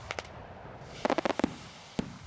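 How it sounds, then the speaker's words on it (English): Fireworks going off outdoors: a pair of sharp cracks, then a quick cluster of five or six sharp bangs, and one more crack after a pause, all fairly distant, with no voices. "Tom's girandolas get mounted inside, and the girandolas will come up out of the center of the crown as it's spinning"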